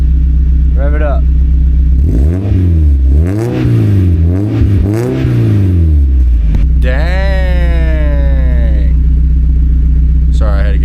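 A Mazda Miata NB engine with an ISR exhaust, loud and close, revved in several sharp rising and falling bursts over a rumbling idle, followed by one long climbing rev.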